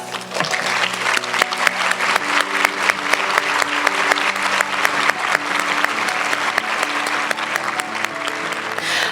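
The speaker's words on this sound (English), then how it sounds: "Caden, please stand so we can give you a huge round of applause" At an awards banquet, an audience claps warmly and steadily in a sustained round of applause from many hands in an indoor room.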